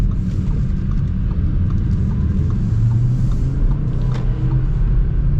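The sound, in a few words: 2023 Audi RS3 driving in RS performance mode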